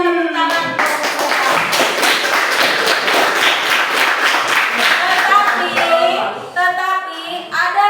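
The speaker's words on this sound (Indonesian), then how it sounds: "Silakan berikan tepuk tangan." A class of students claps for a group in a school lesson, a loose, busy patter of hands with children's voices and chatter mixed in, fading briefly near the end before picking up again.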